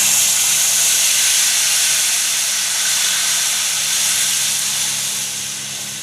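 Kadhi, a spiced yogurt curry with stuffed green chillies, poured into a hot pan, giving a loud, steady steamy hiss and sizzle that holds for several seconds and slowly eases toward the end, with no talking.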